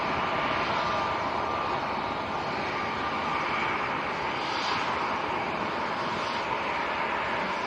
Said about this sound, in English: Quite a new aircraft this one,